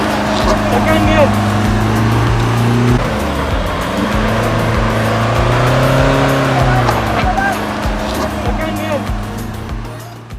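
A Tata Harrier 140PS SUV in second gear pulls out of deep mud off-road, its engine droning loudly and steadily with shifting revs and wheel noise, while voices talk over it.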